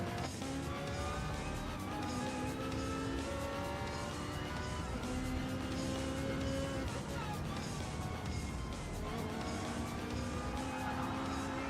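Race cars in a sim racing cup event drone with high, shifting engine whines as they run close together, a constant loud roar with pitch rising and falling through gear changes, under commentary.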